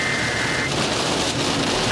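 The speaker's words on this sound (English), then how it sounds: "It's hailing and raining like crazy." Heavy rain and hail pound down during a tornado storm in Moore, a loud, dense, unbroken roar close by, with a faint tone briefly audible underneath.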